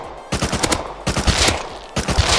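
MP5 submachine gun in the video game Rust, fired in three rapid full-auto bursts separated by short pauses, loud and close with no talking.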